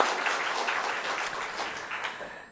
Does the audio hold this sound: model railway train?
no